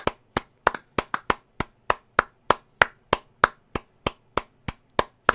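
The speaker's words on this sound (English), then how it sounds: "Clap, but with a crisp packet in between." Hands clap with a crisp packet held between them, giving about eighteen sharp, evenly spaced smacks in a steady rhythm, each one close and loud with a quick decay.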